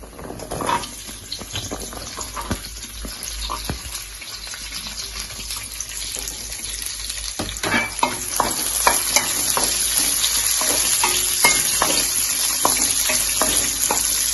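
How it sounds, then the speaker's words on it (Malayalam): Chopped onions frying with ginger in a hot pan give a steady sizzle and crackle that grows louder and denser in the second half, with stirring and scraping clatter throughout and no talk. "ഇനി നമുക്ക് അരിഞ്ഞു വെച്ച ഉള്ളി ഇടാം"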